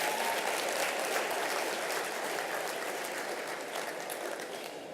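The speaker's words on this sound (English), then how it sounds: "how about one more applause for President Bush?" Large conference audience at an education and talent innovation summit applauding former President Bush, a continuous wash of clapping from many hands that fades slightly toward the end.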